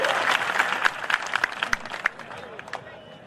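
An audience claps for a poet at a Hindi poetry recital held in a village, lively close-up applause with sharp individual claps that builds and then tapers off, a voice speaking over it.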